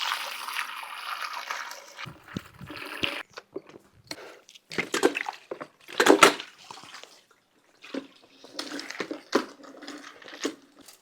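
Water pours into a floor mop bucket during home floor cleaning, a steady rushing splash for the first few seconds, then broken into short splashes and gurgles with quiet gaps.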